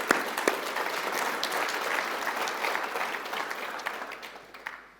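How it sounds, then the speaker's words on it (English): An audience claps loudly and evenly at a welcome session, then the applause gradually thins and fades away toward the end. "let's give them a round of applause"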